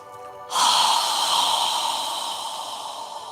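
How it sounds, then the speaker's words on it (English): A long, slow, breathy exhale through the mouth during yoga breathing practice, starting abruptly and fading gradually over about three seconds, close and fairly loud, with no talk. "exhale slowly through your mouth. Imagine you're fogging a mirror with your breath as you exhale."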